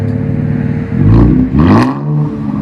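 An Infiniti Q60 3.0L V6 with a straight-pipe exhaust revs sharply twice, loud and close, the roar rising and falling between steady idle.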